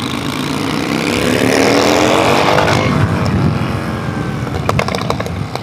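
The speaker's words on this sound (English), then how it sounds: "That rev limiter." A sport motorcycle engine on a group ride with a Yamaha R1, GSX-R750 and RC390 screams at high revs, its pitch climbing under heavy wind noise before bouncing against the rev limiter.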